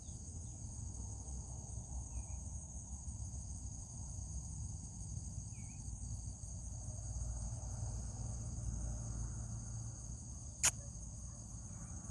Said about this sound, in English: You are determined to find that cricket.